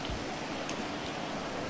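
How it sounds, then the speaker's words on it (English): Steady rain in GTA 5 with the NVE graphics mod, a continuous dense hiss of falling drops with no talk, even and constant throughout. "So we'll switch it to rain right there. And as you can see, we have the rain on the screen."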